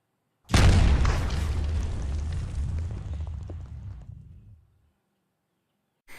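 A grenade explosion sound effect: a loud, deep boom that swells in quickly and rumbles on for about four seconds before fading out, with a brief faint sound at the very end.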